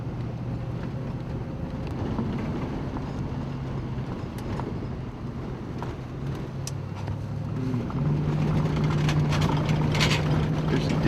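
A car cruises along a remote road on a road trip, its steady engine and road rumble mixed with wind buffeting the microphone. The noise stays loud and continuous and swells slightly toward the end.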